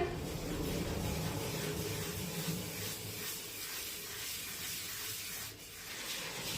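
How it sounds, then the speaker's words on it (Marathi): Ghee and powdered sugar are beaten by hand into a creamy mix, making a steady, soft rubbing and scraping swish that continues without pause. "ही पिठी साखर सुद्धा या तुपामध्ये छान क्रीमी टेक्स्चर येईपर्यंत फेटून घेऊया"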